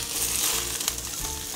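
Cabbage stir-frying in a hot pan gives a close, continuous crackling sizzle with small pops and brief scraping stirs, steady and unbroken throughout.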